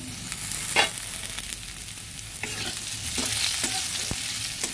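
Potatoes frying over medium heat in a pan, a loud continuous sizzle broken by a few scraping stirs of a spatula, close and without talk.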